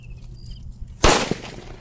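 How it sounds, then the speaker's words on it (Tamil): A Kannan cracker from Sivakasi bursts with one sharp loud bang after a quiet outdoor background, followed by a short crackling tail and a smaller pop. "நல்லா சூப்பராக வெடிக்குதுடா."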